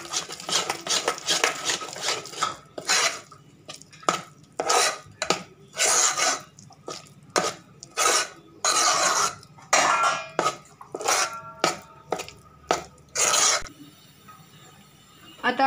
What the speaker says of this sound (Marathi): व्यवस्थित मिक्स करून घेऊया।